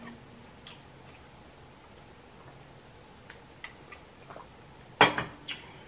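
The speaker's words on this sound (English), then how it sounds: "I keep slamming this glass" A drinking glass of cold fruit water knocked down hard onto a table during a meal, one loud sharp clack standing out from quiet room tone, with a few lighter clinks of dishes and cutlery around it.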